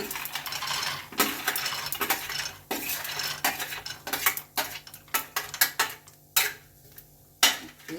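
Peanuts patter and clatter into a pan with roasting spices for a dry curry-leaf chutney, a run of sharp rattling bursts with brief pauses between pours, close and crisp.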